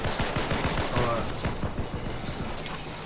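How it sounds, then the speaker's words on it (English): Gunfire in Fortnite: rapid, dense bursts of automatic shots crackling continuously, loud and close, mixed with overlapping voices talking. "Y'all just keep shooting at him."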